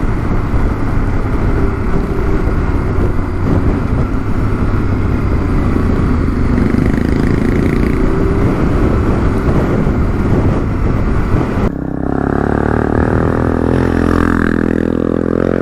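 Adventure motorcycles on a rural road during a GPS rally rumble past with engines revving, a loud continuous roar buffeted by heavy wind noise that shifts abruptly near the end.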